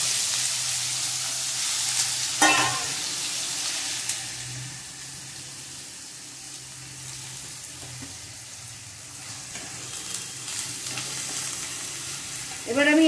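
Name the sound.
snake gourd frying and being stirred in hot oil with black cumin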